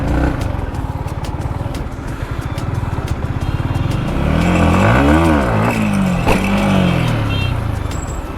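Motorcycle engine revving hard for a wheelie, a rough idle building into loud rising and falling revs up close, with people talking at the start.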